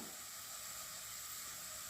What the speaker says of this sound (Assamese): পিঁয়াজখিনি ধুনীয়াকৈ গোল্ডেন ব্ৰাউন হোৱালৈকে ভাজি ল'ম।